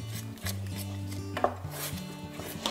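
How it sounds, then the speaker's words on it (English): A spoon scrapes and thuds steadily around a pan of fish pie sauce close to the mic, a soft rhythmic stirring with a light bubbling hiss beneath it. "essential that you keep stirring this, otherwise it will catch on the bottom"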